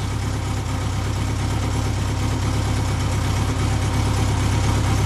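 A motorcycle engine idles steadily with a low, even drone and constant vibration, fuel-treated and running before testing, loud and close with no voices.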